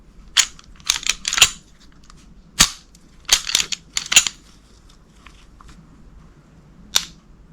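A Sig Sauer M11-A1 pistol trigger dry-fires in a run of sharp, close metallic clicks, some single and some in quick pairs, with short quiet gaps between them.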